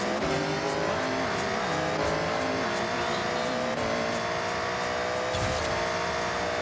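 Tuned car in Forza Horizon 6 with a steady, loud engine drone and shifting pitch, as tires squeal through a drift, continuous and close with no talking.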